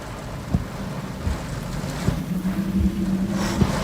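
Wind in a hurricane whistling through power lines, a steady tonal whistle that rises and holds over a rushing roar of wind and rain, with a few dull thumps.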